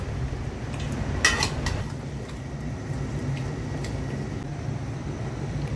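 Beef being mixed with spices and oil in a pot, with a low steady rumble and a few scraping, clinking knocks of a utensil against the metal.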